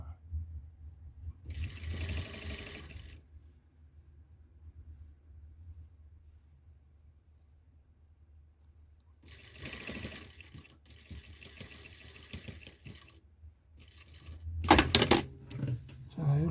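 Sewing machine stitching the waistband of a pleated skirt during an alteration, with two short bursts of whirring stitching separated by a quiet pause, followed by a louder clatter near the end.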